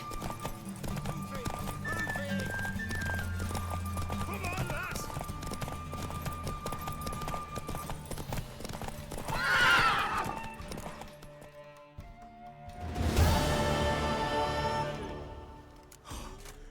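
In The Witcher 3: Wild Hunt, hooves clip-clop steadily close by while someone speaks briefly; a horse whinnies midway, then gives a loud, drawn-out neigh near the end.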